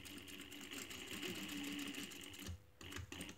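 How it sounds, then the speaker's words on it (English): A sewing machine stitches a pocket flap in a steady, fast close whir, running continuously and then briefly pausing before starting up again. "So you're sewing it on."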